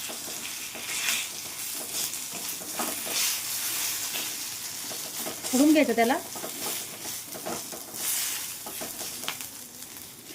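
Onions roasting in a pan on a gas stove are stirred, giving a continuous sizzle with repeated scraping strokes, while someone speaks briefly partway through.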